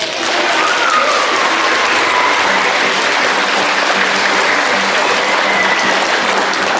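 At an outdoor children's folk heritage day in Mulgimaa, Estonia, a crowd claps again, harder and longer, a loud, unbroken stretch of applause with scattered cheers and voices blended in.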